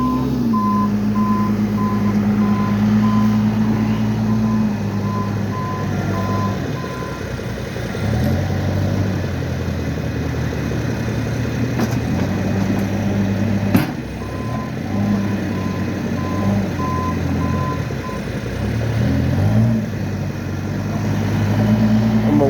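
A snow removal tractor clearing snow in Mattapan Square idles with a steady, rumbling engine while its reversing alarm beeps in a regular, repeating series, pauses, then starts again, close and loud, with no talking.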